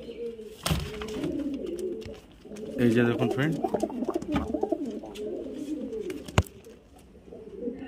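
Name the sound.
Highflyer Giribaz pigeons cooing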